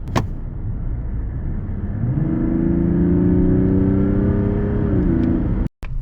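Mazda CX-60 3.3-litre e-SKYACTIV D diesel, 254 hp with AWD, restarts from off under full throttle: a steady low rumble, then after a pause the engine catches and revs in a rising, sustained drone that holds loud and close before cutting out.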